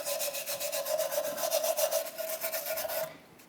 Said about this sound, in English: we want to make sure we clean the mounting surface.